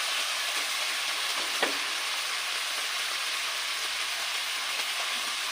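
Chicken cubes fry in hot oil with ginger garlic paste for a Pakistani chicken karahi, giving a steady, close sizzle throughout with one brief sharper crackle, no talking.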